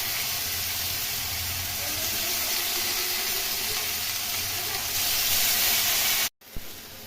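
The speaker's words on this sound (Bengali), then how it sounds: "কালো জিরে ভাজা হয়ে গেছে, এখন এর মধ্যে মশলা দিয়ে দেবো" A ground spice paste of cumin, chilli, ginger, onion, garlic and tomato fries in hot oil after black cumin, for a rohu fish curry. It gives a loud, continuous sizzle that swells slightly before an abrupt cut, then resumes briefly.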